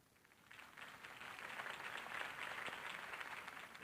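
Crowd applause in a Batman video game cutscene at a Harvey Dent campaign rally, a dense wash of clapping that swells after a quiet start and holds steady at moderate level.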